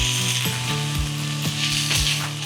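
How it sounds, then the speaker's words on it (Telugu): Fresh coriander and mint leaves fry in oil for pudina karam podi, a constant hissing sizzle with regular spatula knocks against the pan roughly every half second. "ఇందులో మనకి కొత్తిమీర, పుదీనా మనం ఫ్రై చేస్తున్నాం"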